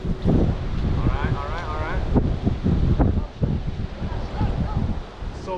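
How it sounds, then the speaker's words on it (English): Gusty wind blows by the Snake River during channel catfish fishing, a rough buffeting rush against the microphone that rises and dips throughout, with people talking over it. "So windy right now."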